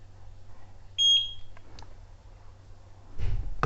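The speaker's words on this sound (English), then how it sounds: "Until you hear the beep" A single short, high electronic beep sounds close by from an indoor pan-and-tilt security camera during setup, followed by faint clicks and a low rustle.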